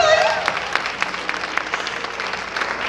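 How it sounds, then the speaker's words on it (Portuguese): An audience at a women's church gathering claps together in a dense, continuous round of applause, with sharp individual claps standing out across the steady roar. "Salva de palmas, gente."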